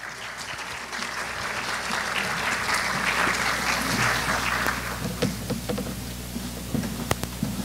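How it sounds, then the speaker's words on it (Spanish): Audience applause welcoming a speaker at a food-safety seminar on the ISO 22000 update, a sustained round of clapping from a room full of people that swells and then thins out into scattered claps. "lo recibimos con un fuerte aplauso"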